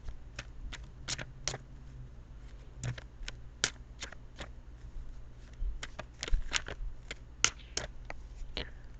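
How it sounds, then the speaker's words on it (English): Tarot cards being shuffled and cut by hand, producing a rapid series of crisp riffling snaps and slaps close up, spread evenly across the clip with a faint background hum. "I'm going to cut the cards."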